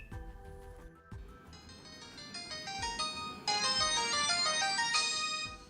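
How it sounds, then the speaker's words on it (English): A pay-as-you-go mobile phone plays an electronic melody ringtone that starts quiet and grows louder, looping bright synthetic notes close by with no voices. "I just got woken up by my pay-as-you-go phone ringing."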